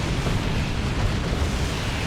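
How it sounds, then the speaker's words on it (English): A missile launcher shot explodes in a Dawn of War 2 3v3 battle, a dense, continuous low roar and rumble with no distinct separate blasts, lasting about two seconds. "that missile launcher missed"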